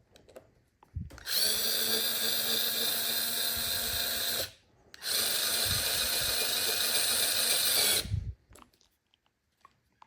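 A cordless 3.7V electric screwdriver drives screws on a scooter with two high-pitched whirring runs of roughly three seconds each, separated by a short pause and with faint clicks at the start and end, close up.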